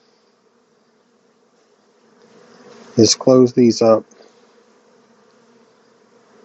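A honeybee swarm closed inside a box at a bee yard gives a loud, close burst of buzzing lasting about a second, with quiet surroundings before and after and someone speaking.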